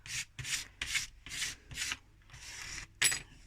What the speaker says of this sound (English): I just scrape it with the blade,